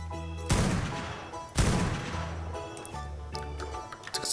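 Two loud gunshots from a high-damage ammo type in ARK: Survival Evolved with the Primal Fear mod, one near 0.5 s and another around 1.6 s, each sharp blast trailing into a long echoing decay over tonal game background sound.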